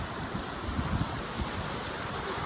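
Snowmelt water from frozen mountain snow rushes down a remote mountain stream between Tajikistan and Uzbekistan, a dense, steady, close roar filling the whole stretch with no voices.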